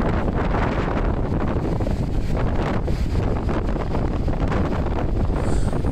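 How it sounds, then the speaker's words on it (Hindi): Strong mountain wind buffets the microphone along a roadside above the roaring Bhagirathi river in India, a loud continuous broadband rush and rumble with no talk. "इन रास्तों में बहुत तेज़ हवा चलती है और उतनी ही तेज़ भागीरथी की आवाज़ है"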